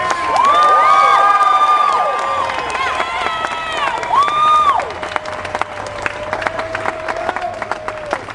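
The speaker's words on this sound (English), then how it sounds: "Let's hear it again for Carla Hitz." A crowd at a political rally cheers and claps, with shouts and whoops rising at first, then tapering into scattered clapping and lingering calls.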